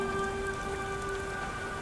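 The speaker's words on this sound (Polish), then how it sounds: "Cholerny deszcz." Steady, dense rain falling in the game Beyond: Two Souls, an even wash of patter under a faint sustained tone, with no voices.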